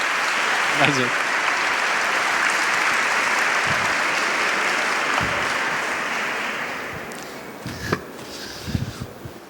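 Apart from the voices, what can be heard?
audience applause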